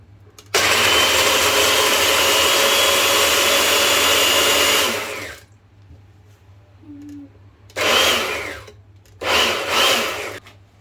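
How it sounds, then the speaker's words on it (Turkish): Loud electric blender whirring as it blends a banana and strawberry milkshake, running steadily for about five seconds, then two shorter bursts after a pause. "Tamam parçalanana kadar karıştırıyoruz."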